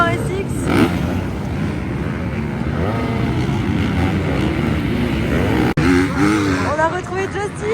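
Supercross motorcycles run laps on an SX track, their engines a steady, dense roar with rising and falling revs as bikes pass, continuous throughout with a brief dropout near the end.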